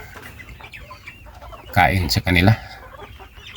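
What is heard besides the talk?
chickens clucking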